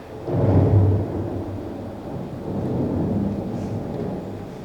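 A thunderstorm sound effect in a youth stage musical: a deep, rolling thunder rumble over a steady hiss of rain, with no talking.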